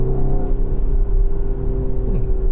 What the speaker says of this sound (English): Not bad from the sound for a 2-liter turbo